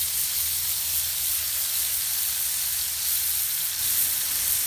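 Smash burger patties sizzling on a hot griddle, a loud, steady, close hiss of frying beef with a bright, dense spatter that holds without a break and has no voices over it.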